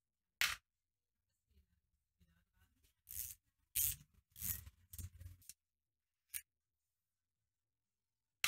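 Damaged locating pins are pulled from the end bracket of a lathe's lead screw, feed rod and clutch shaft using tongs: a handful of sharp metallic clinks and scrapes, close and fairly loud, separated by quieter fiddling and long pauses.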